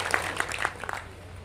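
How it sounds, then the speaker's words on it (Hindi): Applause rises from an audience at an outdoor poetry gathering (kavi sammelan) at an inter college, a brief wash of clapping at moderate volume. "एक बार जोरदार तालियां बजा दीजिए।"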